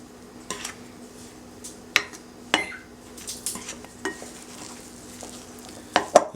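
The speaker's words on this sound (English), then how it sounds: "So now we're going to add the 1 cup of milk. And add our milk and just mix it up" Milk is mixed into flour and butter for biscuits in a bowl, soft scraping and stirring broken by several sharp utensil clicks against the bowl, close and with no one talking.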